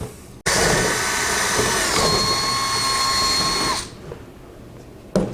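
A power drill bores out a hole to widen it for a lighted shrunken head display, running as one loud, steady whine with a rising pitch for about three seconds and then cutting off, with a brief bump at the end.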